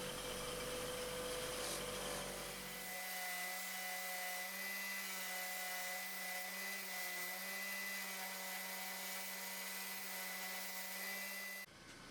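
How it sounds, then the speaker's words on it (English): Buffing wheel running steadily while polishing metal bicycle parts with cutting compound, a continuous loud motor whine with a sustained hum and droning tone that cuts off sharply near the end. "Bit of cutting compound, and then just carefully run the wheel over all of the surfaces."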